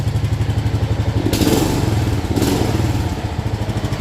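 A John Deere GX75 lawn tractor engine, close and loud, rises from idle into two brief revs that swell and fall back to a steady chug, with no talk.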